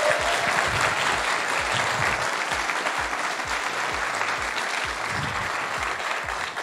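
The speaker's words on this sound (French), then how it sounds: "applaudie de manière tonitruante par le public" An audience at a Trackmania Cup esports event applauds a player thunderously, with continuous, loud, dense clapping and crowd noise that holds steady throughout, with low thumps pulsing underneath.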